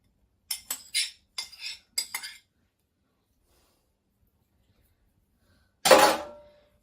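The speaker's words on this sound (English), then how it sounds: "I'm giving it a really, really good stir, and now I'm going to add it in, and it's all fizzy" A utensil stirring a fizzy mixture of sugar and baking soda for honey walnut cookies, heard as a quick run of light clinks and scrapes against a bowl, then a pause and one louder clatter.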